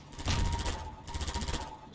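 Rapid bursts of gunfire from the Half-Life 2 video game, two dense volleys of crackling shots, loud and close, with no talking.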